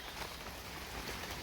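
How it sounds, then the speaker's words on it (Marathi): Steady rain falls outdoors in a backyard, a dense, continuous hiss of drops on surfaces holding at an even level throughout, with no voices. "पाऊस पडतोय."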